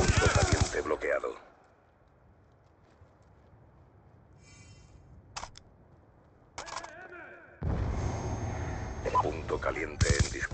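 Gunfire in the Black Ops 2 video game: a few short, sharp shot bursts separated by quiet gaps, followed by a denser stretch of firing. An announcer voice speaks at the start and end.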